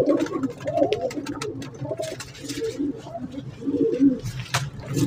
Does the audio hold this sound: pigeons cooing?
yes